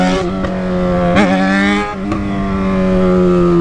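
Yamaha XJ6 motorcycle engine revving hard during wheelie practice: a loud, close, sustained high-revving roar with pitch wobbles and brief dips as the throttle shifts, held steady to the end.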